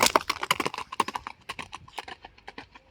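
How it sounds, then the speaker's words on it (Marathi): A horse's hooves clatter quickly and close by in a rapid, uneven drumming. The beats are loudest at first and grow fainter as the horse moves away. "घोडा मी तिकडं पळायला सोडतो"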